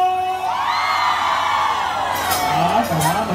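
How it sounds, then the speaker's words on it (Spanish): Women in the crowd at a live cumbia concert in Villa Primavera, Sullana, let out a sustained chorus of high-pitched screams and whoops, loud and continuous with rising and falling cries layered together. "Chicas, otro grito."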